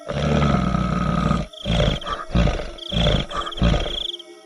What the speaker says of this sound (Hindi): तभी वह बंदर गुर्राने लगता है।